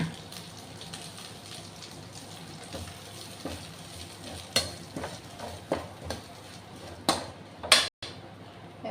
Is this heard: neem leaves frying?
yes